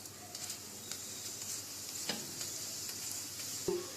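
A lachha paratha fries in ghee on a hot pan with a constant quiet sizzle, broken by a few light taps and a soft scrape near the end.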